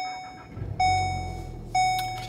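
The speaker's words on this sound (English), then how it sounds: "We're gonna turn on the car." A Volkswagen Golf R being switched on, with two loud electronic chimes or beeps a second apart over a low engine or cabin hum, heard close up inside the car.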